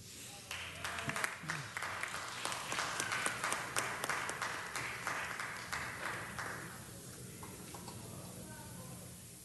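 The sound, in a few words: applause for visiting students at city council meeting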